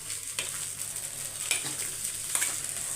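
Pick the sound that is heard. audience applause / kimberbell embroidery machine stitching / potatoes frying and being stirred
potatoes frying and being stirred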